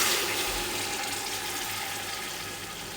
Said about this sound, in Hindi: एक गिलास इसमें पानी डाल देंगे